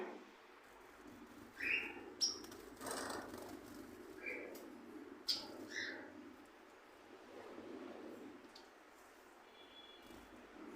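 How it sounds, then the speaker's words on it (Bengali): Gouldian finches in a pet market give short, faint chirps and tweets scattered over a quiet background, a few brief high calls standing out early and midway. "এই গোল্ডিয়ান পাখিগুলো আপনারা পেয়ে যাবেন মেল ফিমেল সবই কিন্তু অ্যাভেলেবেল রয়েছে"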